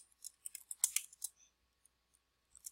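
Fast bursts of light clicking keystrokes on a computer keyboard, a quick flurry of taps followed by a pause and a few final presses, close but quiet with no talking.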